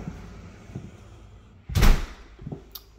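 A lead glass front door on a riverside mobile home opens with a single loud thud or knock partway through, followed by a softer bump, over quiet room ambience with no talking.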